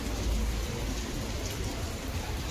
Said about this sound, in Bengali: প্রচুর বৃষ্টি হচ্ছে গাইস, প্রচুর বৃষ্টি।